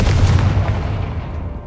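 A Confringo fire spell blast from the video game Hogwarts Legacy, heard as a loud, dense booming burst that trails off over under two seconds, with no talking.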